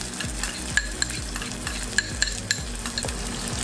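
Onion and garlic sauté in an electric multi-cooker, a low steady sizzle with a rhythmic series of light scraping strokes from stirring and a few sharp clicks, with no voices.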